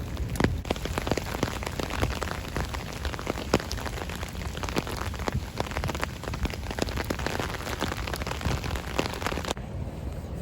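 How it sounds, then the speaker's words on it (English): Heavy autumn rain falls steadily and loudly on a college campus, a dense unbroken patter with scattered louder drops close by, lasting the whole stretch with no voices. "I didn't realize it was raining this hard"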